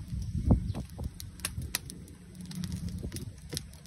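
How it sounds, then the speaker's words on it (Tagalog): Soft cooing of a pigeon or dove close by, low and murmuring, with light rustling and scattered clicks around it. "Gandang ibon"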